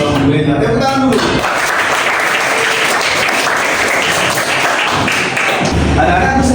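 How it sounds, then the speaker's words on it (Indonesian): Schoolchildren clap their hands in a classroom Quran lesson, a loud, dense burst of clapping with a teacher's voice speaking before and after. "Tepuk tangan dulu."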